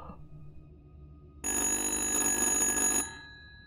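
A telephone rings in the horror video game Little Hope, a loud electronic bell tone starting suddenly and sounding steadily for about a second and a half before cutting off, following quieter ambient game sound.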